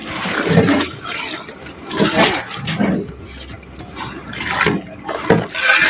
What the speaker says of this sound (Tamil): இப்போ தேவையான அளவு பச்சை தண்ணி வந்து ஊற்றிக்கலாம்